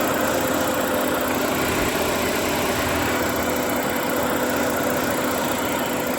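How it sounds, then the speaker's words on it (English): A 2011-2019 Ford Explorer engine idles steadily after a serpentine belt replacement, a constant close hum and whir with no pauses and nobody speaking. "I'm just going to fire it up and see how it does here. Okay, so we got it cranked up"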